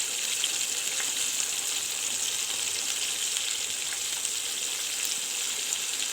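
Breaded chicken panee without egg or milk frying in oil in a covered pan on a gas stove, giving a steady, dense sizzle that holds evenly throughout with no voices.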